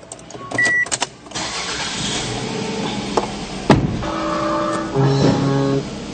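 A 2002 Toyota RAV4 Cruiser with 166,000 km on it cranks briefly, then its engine catches and settles into a steady idle, heard close from inside the car with a few clicks and knocks.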